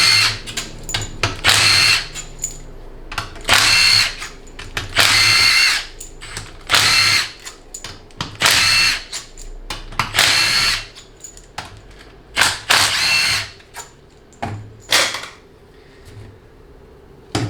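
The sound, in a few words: power drill removing main valve body bolts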